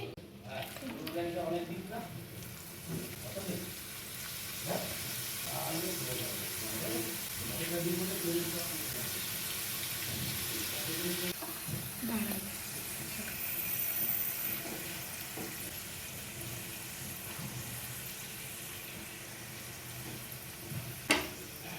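Papad and similar vegetarian snacks fry in hot oil with a steady sizzle and hiss, heard at close range beneath continuous talk, with a few stirring scrapes along the way.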